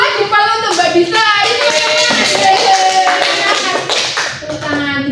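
Classroom students clap their hands together in a loud burst of sharp, overlapping claps, with voices calling out over the clapping.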